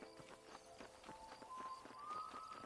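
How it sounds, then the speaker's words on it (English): A horse galloping up in the Red Dead Redemption video game, a rapid, steady clip-clop of hooves drawing near, with a faint rising tone underneath. "the horse fucking runs up to you and catches up with you"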